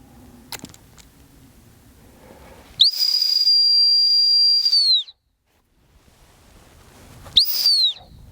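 Two shrill, steady whistle blasts, a long one followed after a pause by a shorter one, loud and close against quiet outdoor background.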